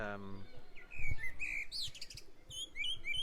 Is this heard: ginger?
no